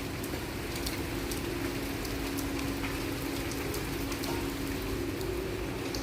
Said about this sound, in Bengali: মুসুলধারায় বৃষ্টি হয়ে গেল